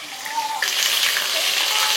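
Ginger and green chili paste drops into hot oil, where dried red chilies and cumin are already frying, and a loud, close sizzle swells and then holds as a steady hiss.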